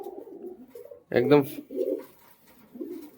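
A Madrasi pigeon pair coos in a short, close burst, with softer murmurs around it and someone talking nearby.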